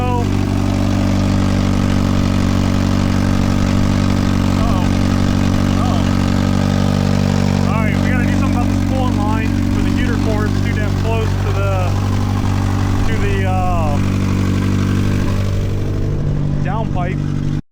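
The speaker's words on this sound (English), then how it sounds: "We've got like a 1200 RPM idle or so." A Mazda Miata engine idles steadily at about 1200 RPM with its throttle plates pushed fully closed, a loud, constant hum throughout with someone talking over it.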